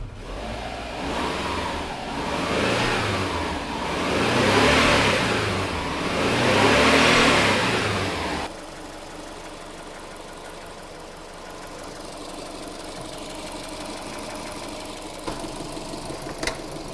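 A Subaru Impreza engine is revved repeatedly to about 2,000-3,000 rpm during a coolant flush, rising and falling in several close, loud swells before settling into a steady idle.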